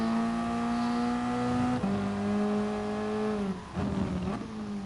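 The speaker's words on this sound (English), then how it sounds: "It's a little too high in the revs when I'm going down to it for a" A Toyota race car engine in a racing game drones at high revs, stepping down in pitch with each downshift, loud and steady with a brief dip near the end.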